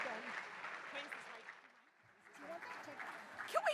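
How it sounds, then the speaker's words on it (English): An audience at a charity ball claps in applause under a speaker's voice through a PA, the clapping dipping briefly before rising again with cheers. "Give yourselves a big round of applause."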